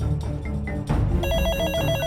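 A telephone rings loudly in a Telugu film scene, a bright repeating electronic ring that takes over after some brief clattering and rustling, with no talk.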